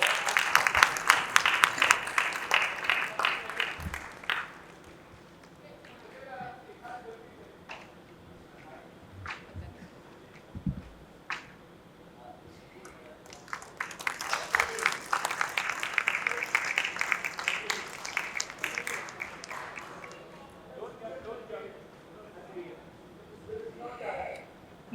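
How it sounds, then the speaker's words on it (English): Audience applause at a panel event on cooling innovation, bursts of clapping from a seated crowd at the start and again in the middle, with quieter scattered claps and room noise between them. "You can clap, I guess."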